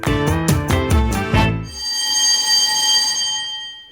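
A loud electric bell rings in rapid repeated strikes, then stops, leaving a lingering metallic ring that fades slowly.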